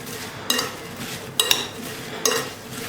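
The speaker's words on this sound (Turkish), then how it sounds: "Bu malzemeleri şimdi güzelce bir karıştırayım." Cake batter of sugar, chopped apple and cinnamon being stirred in a bowl: three brief scraping clinks of a utensil against the bowl, spaced about a second apart over a quiet background.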